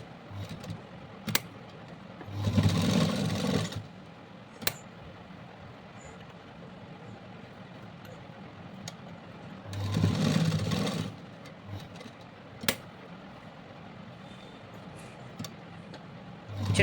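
A sewing machine stitches a frock in two separate bursts of rapid whirring, each lasting about a second, with sharp isolated clicks in between against a quiet background.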